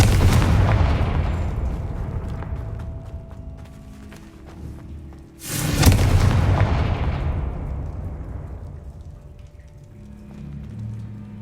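Bombarda and Confringo spells explode in Hogwarts Legacy: a deep rumbling blast that rolls away, then a second sharp booming explosion about midway that decays slowly, loud and close.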